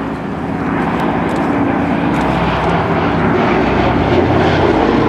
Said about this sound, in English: we have the B-17s coming around again, Liberty Belle, this wonderful aircraft that came all the way to this show from the United States